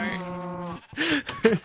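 A Minecraft cow gives a drawn-out game moo followed by shorter clipped lows, close and clear, with a player's voice briefly nearby.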